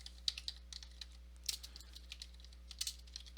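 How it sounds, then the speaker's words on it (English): Fingers tap quickly on a computer keyboard in a quiet room, a steady stream of light, close keystrokes with occasional firmer presses and short pauses, over a constant low hum. "Whoops, I just can't type today."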